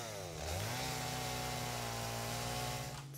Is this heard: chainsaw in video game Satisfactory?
yes